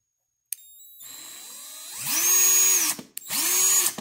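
A Bauer hammer drill converted to run on a DeWalt 20V battery spins up in two loud, close bursts with a high whining motor, following a brief click and quieter run-up, with no talking.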